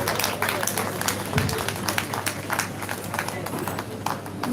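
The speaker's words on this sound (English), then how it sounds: "Please let's clap," An audience at an ophthalmology faculty lecture claps continuously for the speaker being welcomed, producing a steady, moderately distant patter of applause.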